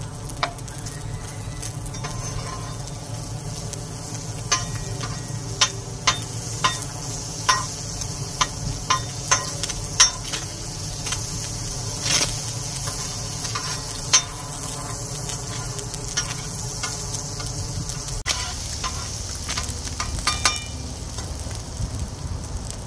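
Canned meat frying in a pan, a steady close sizzle and crackle running throughout with frequent small pops and spatters, then quietening slightly toward the end; no talk.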